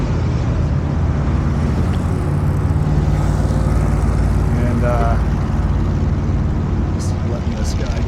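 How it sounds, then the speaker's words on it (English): Cars passing on a street in the historic downtown of Cody, Wyoming, heard from the sidewalk as a continuous loud engine and tire rumble, with a person briefly speaking over it. "just letting this guy get across traffic."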